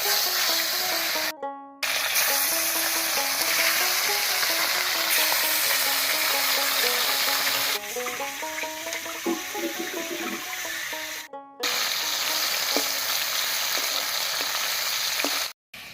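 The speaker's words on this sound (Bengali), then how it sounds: "এবারে ভেজে নিচ্ছি। মাছগুলো ভাজার জন্য" Turmeric-and-salt-rubbed fish fry in hot mustard oil in a wok, a loud continuous crackling sizzle close up, with brief drops into silence and some shifting bubbling tones midway.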